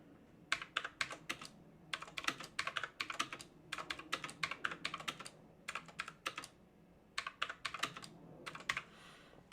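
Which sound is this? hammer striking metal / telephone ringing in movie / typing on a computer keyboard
typing on a computer keyboard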